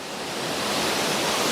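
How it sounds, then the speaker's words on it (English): A mountain creek rushing over small waterfalls at Deep Creek in the Great Smoky Mountains, a continuous broadband roar of flowing water, steady and close, with no voices. "that creek is gurgling."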